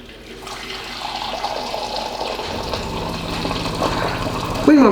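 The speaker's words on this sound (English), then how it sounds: "When I'm putting the hot water in, you can see the steam's coming up." Hot, steaming water pours steadily into a container, a continuous splashing trickle that builds slightly in level, with a brief louder gurgle at the very end.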